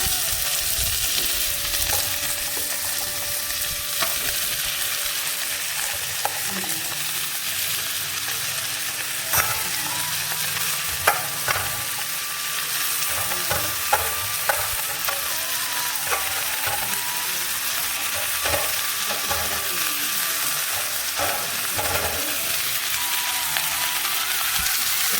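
Chopped bottle gourd and tomato sizzle steadily in a pan for a long stretch, with a spoon scraping and clicking against the metal at irregular moments through the frying hiss.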